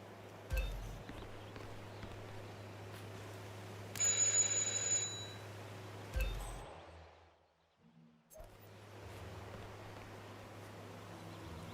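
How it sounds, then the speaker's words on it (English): A doorbell rings once, a short electronic chime in the Hitman 2 video game, over a steady low ambient hum. There are faint footsteps and thuds before a brief quiet gap. "Just ring the doorbell."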